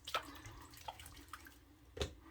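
Small splashes of water at a sink while preparing to wet-shave with a Gem Featherweight single-edge razor; a few faint, separate drips and dribbles in a quiet room, with soft gaps between them.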